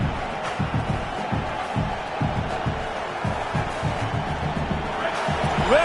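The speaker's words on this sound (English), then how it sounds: "Listen to this crowd just shaking the girders of this place, trying to help their defense." A large stadium crowd at a Tennessee versus Oklahoma college football game roars continuously, a dense rumbling din with rhythmic pulses of stomping or chanting, loud and enveloping throughout.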